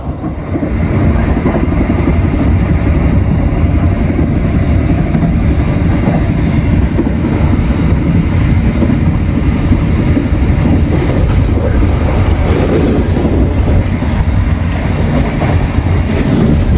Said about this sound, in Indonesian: baru saja kereta api Gumarang melintas langsung stasiun Pasir Bungur